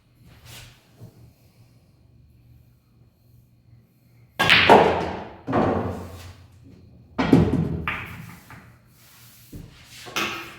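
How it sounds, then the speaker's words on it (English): Cue ball struck by a pool cue on a billiards table for a draw shot in an 8-ball game, several sharp knocks and clacks of balls, fairly close, after a quiet start. "We've got to shoot a little bit harder because we want the cue ball to travel down at this end of the table"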